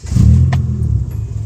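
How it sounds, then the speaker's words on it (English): A car engine cranking and catching after a DIY flex tube exhaust repair, a short, close, low rumbling start that settles into a quieter idle. "So key in the ignition, about to start her up."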